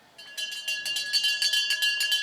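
A bell rung rapidly and continuously at a polo match to end a chukker, loud and close, its strokes repeating for about two seconds.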